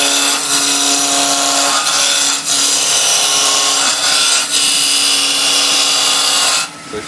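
Steady, loud whirring of a wood lathe roughing down a wood blank into a cylinder, with a rough scraping, grinding texture throughout, easing off briefly near the end.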